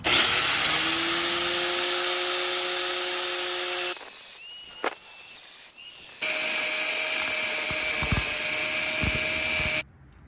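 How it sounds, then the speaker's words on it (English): An angle grinder fitted with a metal-cutting blade cuts through corroded bolts on a boat trailer, whining loudly and steadily, breaking off briefly, then grinding again before stopping abruptly. "So we're just going to use our grinder with our metal blade, and we are going to, with our eye protection on, we are going to cut these bolts off."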